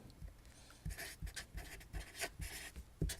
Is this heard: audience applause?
no